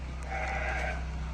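A goat on a small farm gives one drawn-out bleat at moderate distance over a steady low hum, with no talk.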